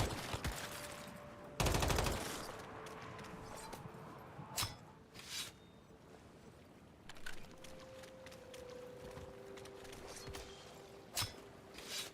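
Scattered gunshots aimed at a bear in the video game New World, one loud blast followed by several fainter, isolated cracks spread out over quiet ambient background, with no talking.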